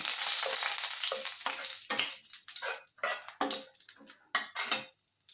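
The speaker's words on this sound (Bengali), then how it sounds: "তেলটা গরম হয়ে গেছে দেখুন। এখন এর মধ্যে তেজপাতাটা দিয়ে দেব।" A bay leaf drops into hot oil for a jackfruit curry and sets off a loud, close burst of sizzling that crackles on and then settles into irregular spitting pops.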